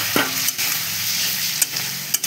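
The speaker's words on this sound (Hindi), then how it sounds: "तापरे ताको 2 मिनिट भल से मसला टा कसी देबा।" Masala with egg and potato stirred and frying in a pan for egg curry: a steady sizzle runs throughout, with a few scraping stirs and clinks of the spoon against the pan.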